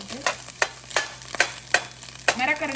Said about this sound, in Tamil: முட்டை வறுத்தாச்சு இதை நான் ஒரு பாத்திரத்தில் எடுக்க போகிறேன்